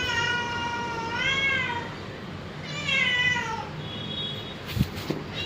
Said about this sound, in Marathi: माझं मांजर